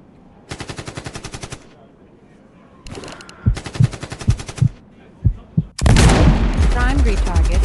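Gunfire in the mobile shooter game Sniper 3D: a rapid burst of shots, a run of heavy single booming shots, then a loud sustained blast and rumble, all close and punchy with no talk.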